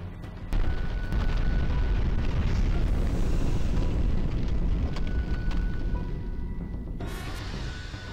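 Armor Spider's fire breath attack in Demon's Souls: a sustained, roaring blast of flame that starts abruptly and holds loud and steady for several seconds, then drops off near the end with a brief hiss.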